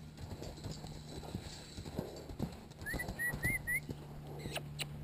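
A mustang's hooves clip-clop in a steady trotting rhythm during groundwork at about two weeks of training, fairly close and moderately loud, with faint bird calls whistling in the background.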